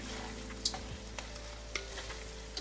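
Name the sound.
stirring fried catfish with chili in a pan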